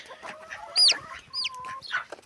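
Farmyard chickens cluck in short, close bursts, with a few sharper squawking calls rising between softer muttering notes, all heard without any voices.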